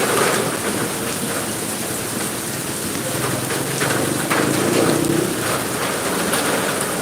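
Heavy rain pours down at a goat farm, a loud, constant hiss with faint low rumbles beneath it that last throughout.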